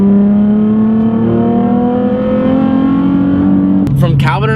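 A Nissan 350Z with a cold air intake pulls hard in third gear, its engine droning loud and steady with rising pitch from inside the car, ending in an abrupt shift-like break.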